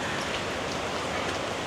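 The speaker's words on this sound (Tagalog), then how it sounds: "Parang hindi na giving yung ulan. Masyado nang malakas." Heavy rain pours down on a Tokyo street as a dense, steady hiss of drops, close and continuous, with no talking.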